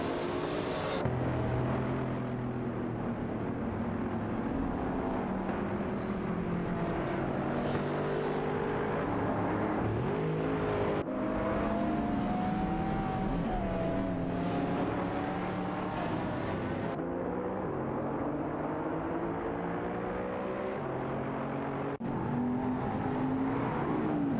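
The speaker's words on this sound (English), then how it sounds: "It's a Lamborghini Diablo VT versus a Mercedes SLR McLaren showdown." Lamborghini Diablo VT and Mercedes SLR McLaren dueling in a racing video game, engines droning loudly and steadily with shifting revs and pitch sweeps throughout, no voices.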